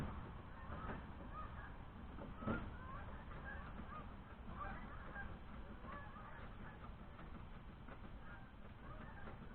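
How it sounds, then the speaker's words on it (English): Geese fly south overhead, honking faintly and intermittently at a distance, a soft, steady outdoor background heard while a 1971 VW bus engine is being removed. "Birds are flying south already."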